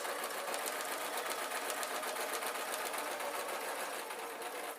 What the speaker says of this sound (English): you can kind of hear it underneath the noise of the sewing machine